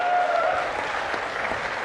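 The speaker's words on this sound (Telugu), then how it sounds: "గట్టిగా చప్పట్లు కొట్టి అభినందించాలి" An audience at a public speech by Chief Minister Chandrababu applauds, a short, full burst of many hands clapping together at steady loudness with no voices on top.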